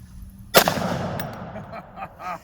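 A single loud, close Desert Eagle .44 Magnum pistol shot fired outdoors at a stop sign target, a sharp crack followed by a long, rolling echo that fades over about two seconds.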